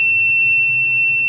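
A rain detection alarm buzzer for a house or crop protection sounds a steady, loud, unbroken high beep that holds at one pitch throughout, with a faint low hum underneath.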